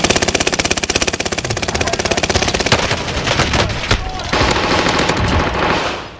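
Rapid automatic Uzi fire in a battle royale shooter game, loud sustained bursts of fast, evenly spaced shots running for several seconds, with other gunfire and game noise mixed in toward the end.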